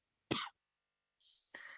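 A single short, sharp cough up close, followed after a brief pause by a breathy throat sound.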